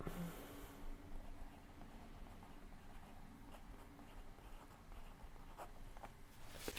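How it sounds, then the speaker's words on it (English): A pen writes on a cross stitch planning board, with faint scratchy strokes coming in short irregular runs against a quiet background and no talking. "I'm trying to think where in the block I want to write the project"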